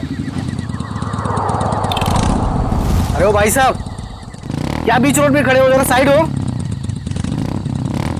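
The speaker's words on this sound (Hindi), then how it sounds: "उस रात जंगल के रास्ते अपनी बाइक से अपने घर आ रहा था।" A motorbike engine runs steadily on a road through a forest at night, loud and continuous, as a man calls out over it.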